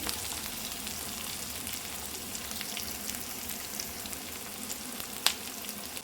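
Curry leaves, chana dal, cumin and chopped onions frying in a pan for an okra fry, a soft, steady, fairly faint sizzle with one brief clink near the end, no talking.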